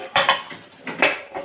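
A white ceramic plate clatters against other dishes as it is pulled from a stack in a home kitchen before breakfast, with a few sharp clinks close by.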